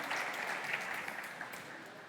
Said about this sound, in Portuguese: recebam com uma salva de palmas